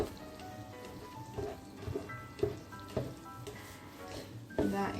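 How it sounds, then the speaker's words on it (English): Tomato sauce for Rioja-style cod sizzles and spits in a pan while being stirred, with a steady crackling fry and scraping stir strokes recurring at close range. "Super, let's give it a stir."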